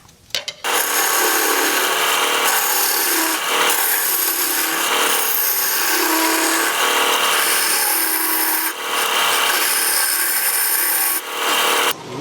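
Wood lathe with a turning gouge hollowing a recess, a loud continuous rough cutting and scraping hiss that runs almost unbroken, close by, with brief breaks where the tool lifts.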